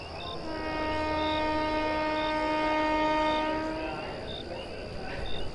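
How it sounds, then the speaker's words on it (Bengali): A train pulls out of a station with a long, loud, steady multi-tone horn blast over a low rolling rumble that fades toward the end. "দু মিনিট পরে ট্রেন ছাড়ল।"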